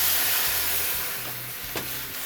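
Zucchini in a hot pan over high heat, with water just added to cover it: a loud, steady broadband hiss of steam and sizzle that holds for the whole stretch, with a brief clink near the end and no talking.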